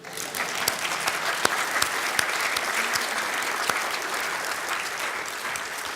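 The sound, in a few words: audience applause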